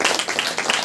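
A church congregation at a Saturday power meeting clapping hands together, a dense, rapid, close patter of many overlapping claps in quick rhythm.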